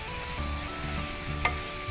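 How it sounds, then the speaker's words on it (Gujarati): Stirring a mixture of jaggery and lemon for a taro leaf dish in a pan, a steady soft scraping and sizzling close by, with a brief sharper scrape near the end and no talk. "એને બરાબર મિક્સ કરી લઈશું."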